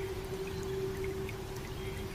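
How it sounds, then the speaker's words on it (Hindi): Rain patters softly and steadily, a continuous fine hiss of drops falling on an umbrella at night, with a faint constant hum beneath. "जो बारिश बूंदे उस छतरी पे गिर रही हैं"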